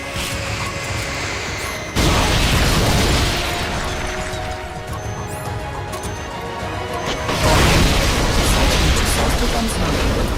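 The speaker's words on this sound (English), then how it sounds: "Self-defense system online. Firing rocket launcher." A rocket launcher fires in the video game Metal Gear Solid: Peace Walker, two heavy booming blasts that trail into a long rumbling roar, loud and close.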